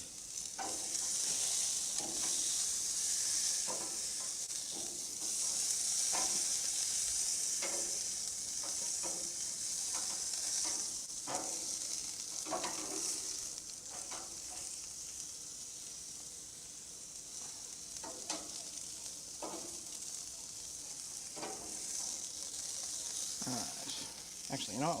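Steady sizzling hiss of lamb and burgers frying on a hot barbecue grill, with occasional scraping and tapping of utensils, fairly close and continuous.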